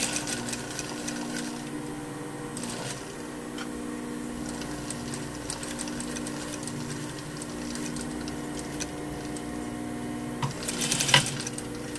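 A sewing machine stitching fabric for a double welt pocket, a steady close mechanical whir with fast ticking, ending in a brief louder clatter.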